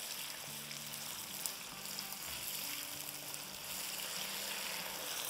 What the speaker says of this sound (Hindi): तो देखिए यहाँ हमारे पास आधा कप जितनी प्याज है रफली चॉप की भी, इसको थोड़ा सा सॉटे करेंगे